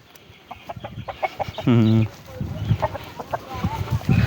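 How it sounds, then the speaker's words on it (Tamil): Native breed chickens cluck in short bursts close by, with one longer drawn-out call in the middle and soft talk in the background. "இது நாட்டுக்கோழி தான்? நாட்டுக்கோழி."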